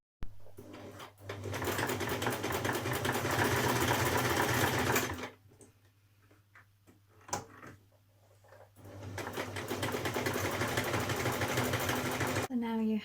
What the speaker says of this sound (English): So we're going to make the buttonhole here and stitch on our button here.